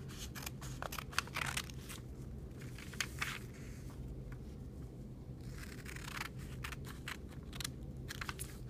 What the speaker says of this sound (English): you're going to take a pair of scissors and cut on the dotted line